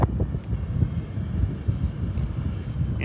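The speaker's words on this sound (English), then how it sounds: "Really windy today." Strong wind buffets the microphone outdoors on a farm where hay bales are being moved, a loud, constant low rumble with gusty swells throughout and no voices.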